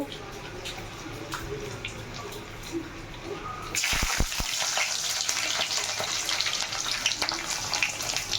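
Food dropped piece by piece into hot oil in a home kitchen, bursting into a loud, steady sizzle partway through after a quieter crackling stretch, with a few sharp taps as pieces go in.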